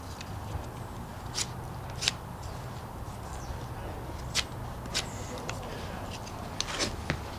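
Short, crisp snips of a knife or blade trimming shavings from resinous fatwood, coming as scattered sharp clicks over a quiet outdoor background.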